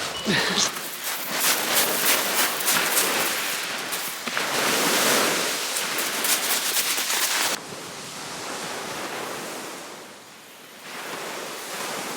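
Sea waves break and wash up on Walmer Beach in November, with loud surges of surf rolling in close, rough wind buffeting the microphone, and a quieter stretch of lapping water near the end.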